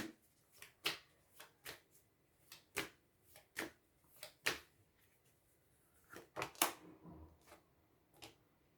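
Tarot cards being shuffled and drawn make a quiet string of crisp snaps and flicks in an irregular rhythm, with a brief flurry of quicker card slaps toward the end, close and fairly soft.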